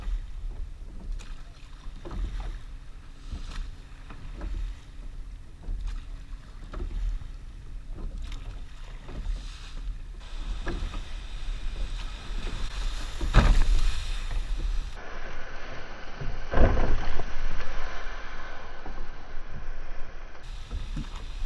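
A rowing crew pulls through waves with a regular rhythm of oar strokes and splashes, set against wind noise and rushing water that surges louder later on.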